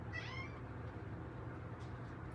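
A single short cat meow near the start, faint against a quiet indoor background, then near silence.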